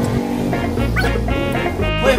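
A dog barks and yips in short bursts over a steady low rumble of engine or traffic outdoors near a mosque, loud and close, with a voice mixed in.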